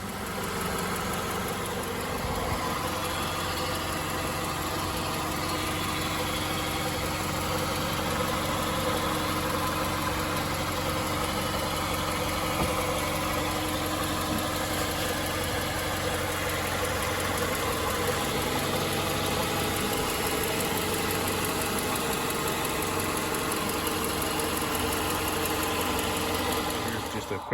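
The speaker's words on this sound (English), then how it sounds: "You can hear the car running in the background there" A Suzuki SX4 CVT car engine idles steadily nearby, a continuous low hum with a faint mechanical ticking, unbroken and without speech.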